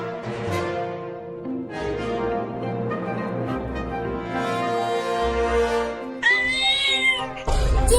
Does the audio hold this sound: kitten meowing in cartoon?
yes